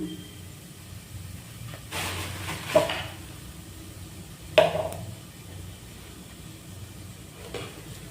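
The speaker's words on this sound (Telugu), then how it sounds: "కొన్ని షాజీరా, ఇలా మిక్స్ చేసుకుందాం." Shahjeera stirred into chicken pulao in a pot: faint, low sizzling hiss under a few scraping spoon strokes and two sharper metallic taps against the pot, close and quiet.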